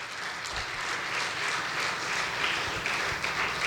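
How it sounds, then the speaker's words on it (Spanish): A church congregation applauds with steady, dense clapping at moderate volume, continuing evenly the whole time. "No le damos un aplauso a Cristo por eso"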